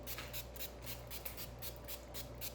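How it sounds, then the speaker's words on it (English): A rapid series of short hissing spray bursts from a pump spray bottle onto a painting, about a dozen in quick rhythm, close and fairly quiet. "now I'm gonna spray it with the spray bottle."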